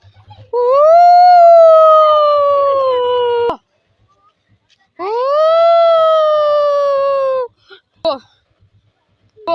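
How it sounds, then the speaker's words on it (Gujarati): A dog gives two long, sustained howls, each holding a steady wavering tone for about three seconds with a pause between, loud and close in an otherwise quiet setting. "આ તો કુતરાનો અવાજ છે"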